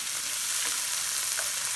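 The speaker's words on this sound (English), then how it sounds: "They'll start sizzling because they're cold." Cold frozen peas hitting a hot pan for fried rice, giving a steady, close, broadband sizzle that hisses evenly throughout with no talking.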